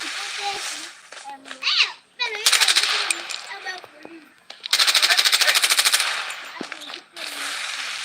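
Video game gunfire in a squad shooter, with rapid automatic bursts that come and go in loud rattling stretches, mixed with shouted voices between the volleys.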